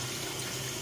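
Cold tap water running steadily to rinse ingredients for goja, a traditional Roma dish, a soft, even hiss of flowing water at low volume with no voices.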